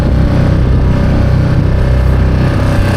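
An outboard motor on a small boat's transom runs steadily after a carburetor cleaning, its loud, even drone holding a constant pitch throughout with no talk.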